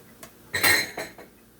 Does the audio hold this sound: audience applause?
no